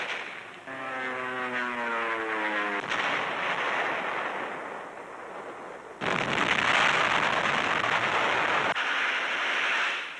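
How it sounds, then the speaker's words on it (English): Wartime newsreel of dive bombers and artillery supporting advancing infantry in northern Burma: a loud, continuous roar of aircraft engines and gunfire, with a droning, wavering tone early on and a heavier burst of blasts partway through. "Dive bombers pave the way, only a few hundred yards ahead of advancing infantry."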